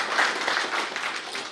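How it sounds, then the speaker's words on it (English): An audience at an engineering award ceremony and foundation day event claps steadily, a dense, even wash of many hands close and loud, with no voices over it. "A big round of applause for"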